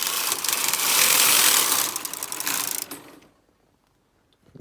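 Brother KH-270 Electroknit chunky knitting machine carriage sliding across the needle bed, a loud rushing mechanical rasp with ratcheting clicks lasting about three seconds, then stopping abruptly into near silence.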